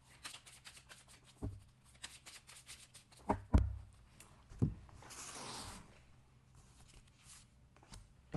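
Oracle cards are shuffled and drawn in a quiet room, giving a run of soft papery riffles and flicks, a few sharper taps as cards land, and a longer rustling sweep near the middle.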